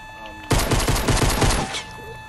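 A burst of rapid pistol fire in a video game, a dense volley of loud shots lasting just over a second before stopping.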